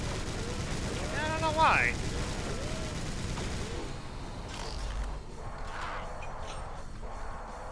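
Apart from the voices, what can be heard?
enemy gunfire in video game Brutal Doom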